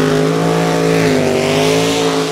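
A Stock Eliminator drag race car makes a run at Lucas Oil Raceway, its loud, steady engine drone holding a sustained pitch that shifts slightly, close and dominant, with no talking.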